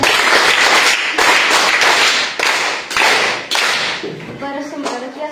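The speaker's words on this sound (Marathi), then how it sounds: "त्यासाठी सगळ्यांनी टाळ्या वाजवायच्या." Primary schoolchildren clapping together in a village classroom quiz, several loud bursts of rapid clapping in quick succession, close by, fading at the end under a brief voice.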